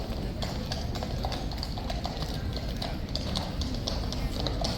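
Hooves of the King's Guard horses clip-clop steadily at Horse Guards, a continuous run of hard taps over a loud, busy outdoor crowd murmur.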